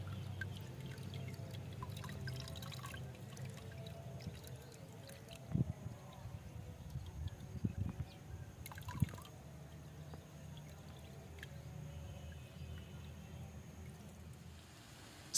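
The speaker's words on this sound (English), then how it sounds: "Then strain the liquid and pour it into a spray bottle." Orange peel liquid is strained and poured into a spray bottle, a faint trickling with a few small splashes and clinks in a quiet room, low and steady throughout.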